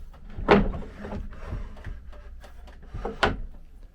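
A small wooden drawer in a 1980 Mainship 34T boat interior slides and knocks twice, with a sharp bump near the start and another near the end, close by and fairly loud.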